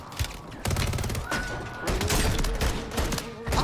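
Pistol fire in the video game Warzone 3 rings out in a rapid, loud string of close shots with some heavier booming hits, no speech.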